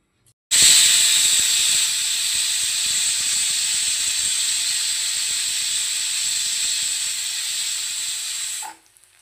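Steady, loud hissing of steam escaping from a pressure cooker with mutton cooking inside, running unbroken for several seconds before cutting off abruptly.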